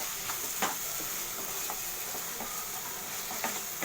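Chili and tomato sauce sautéing in a pan for butter chicken gravy, a steady soft sizzle with occasional spoon scrapes and stirs, close and moderately quiet, with no talking.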